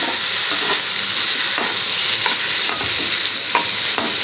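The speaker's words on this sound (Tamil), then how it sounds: "வெங்காயம் கொஞ்சம் லேஸ் ப்ரௌன் வணங்கினதும் அது கூட 4 தக்காளி சேர்த்து வதக்கிக்கலாங்க." Onions and tomatoes sauté in hot oil for a fish curry, a steady broadband sizzle running throughout with occasional stirring scrapes and clicks of a utensil against the pan, close and fairly loud, no talking.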